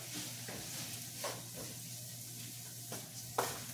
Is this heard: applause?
no